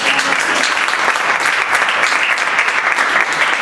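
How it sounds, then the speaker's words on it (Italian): An audience at a book presentation in the Sa Corona Arrubia museum gives continuous, dense applause for the bookseller, loud and sustained throughout with no talking over it. "vorrei quasi un applauso per la libraia"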